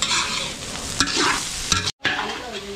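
Food sautéing in margarine in a pan, a steady loud sizzle with stirring scrapes and a couple of sharp clanks, briefly cutting out near the end before resuming.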